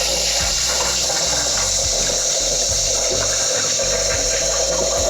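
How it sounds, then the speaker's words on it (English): Steady rush of running tap water as rice is rinsed for a homemade chicken and rice dog food, a continuous loud splashing stream with low thumps underneath and no talking. "we're going to continue to rinse this until the water runs fairly"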